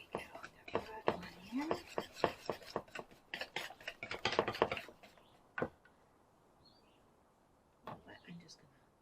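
Applesauce cake batter being stirred by hand with flour, producing soft scraping and clinking of a utensil against a bowl in irregular bursts, with quieter gaps and faint background chirps.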